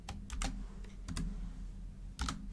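Typing on a computer keyboard in three short bursts of close, crisp key clicks separated by brief pauses, with no talk.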